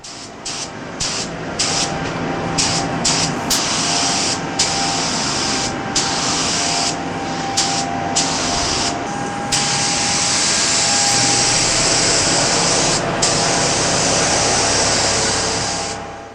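A steady hiss of a spray gun painting BMW M5 car parts, including a bumper, broken by short gaps where the spraying pauses, with a constant machine drone underneath.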